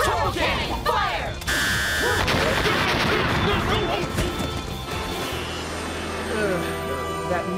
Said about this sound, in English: Turbo cannon, fire!